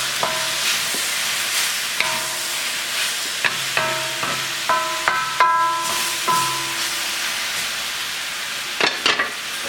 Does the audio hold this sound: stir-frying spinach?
yes